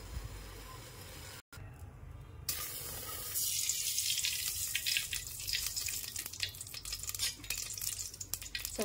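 Cooking oil poured into a pot for tempering while making a village-style drumstick masala curry, a steady, close hissing pour that grows louder and brighter partway through, with no one speaking.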